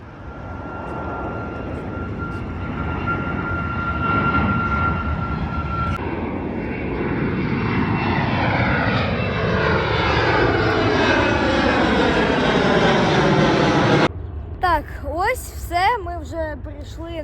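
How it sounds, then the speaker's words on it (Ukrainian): A passenger airplane taking off at an airport, heard from an observation deck: a loud sustained jet engine roar rising in pitch and building over many seconds, ending abruptly. "як злітають літаки"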